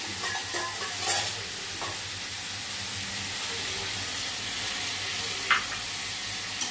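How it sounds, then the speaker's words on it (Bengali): Banana flower curry with chickpeas and potatoes being stirred in a pan: a low steady sizzle under repeated scrapes and knocks of a spoon, with a sharper clink near the end and no voices. "এবার আমি একটু নাড়াচাড়া করে এখানে একটু জল দিয়ে ছোলা আর আলুটা সেদ্ধ করতে দেব"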